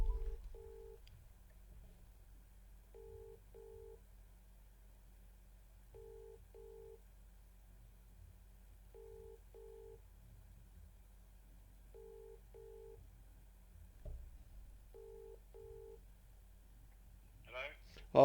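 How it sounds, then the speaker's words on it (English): A telephone line gives a repeating electronic tone while a call is being merged, six evenly spaced double beeps about three seconds apart. The beeps are faint and thin over a quiet line, and a voice is briefly audible near the end. "I'm just going to try and merge Mick into this phone call."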